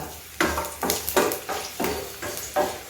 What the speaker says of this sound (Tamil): கொஞ்சமாக எடுத்து அதை வதக்கிடுவோம்